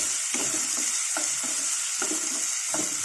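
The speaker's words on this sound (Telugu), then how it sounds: "ఈ పచ్చిమిరకాయలు వేగేలోపు శనగపప్పు కూడా కొంచెం తడిపోయి కొంచెం వేగినట్టుగా వస్తాయి" Green chilies and chana dal fry in oil in a pan while cooking bottle gourd curry, a steady bright sizzle with regular soft stirring scrapes of a spatula, close and continuous.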